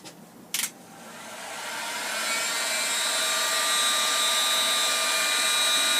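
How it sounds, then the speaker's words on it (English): A heat gun blows a steady, loud, airy whine while heating the plastic insert of a walking stick. A brief click and burst come first, then the drone builds and holds close and constant. "try and build the heat into it, into the side"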